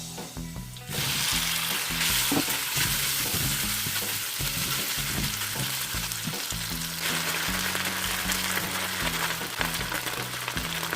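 Pork loin fries in an oily pan, with a steady loud sizzle and clattering stirring throughout, rising suddenly after a quiet start and continuing without talk.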